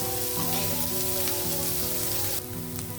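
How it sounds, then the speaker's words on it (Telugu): Carrot and onions frying in a pan for atukula pulihora, a dense steady sizzle like rain on a surface, close and fairly loud, with a constant low hum beneath and no speech. "క్యారెట్ ఉల్లిపాయలు వేగాయి కాబట్టి నేను ఇప్పుడు స్ప్రింగ్ ఆనియన్ యాడ్ చేస్తున్నాను ఉల్లికాడలో"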